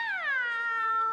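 A cartoon cat gives one clear, drawn-out meow with a falling pitch that settles into a steady tone, loud and close with no talk over it.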